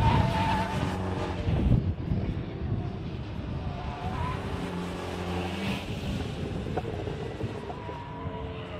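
A Saab NG900 car racing a standing mile: a steady engine roar and tire noise that holds loud and continuous from a distance, with faint voices mixed in.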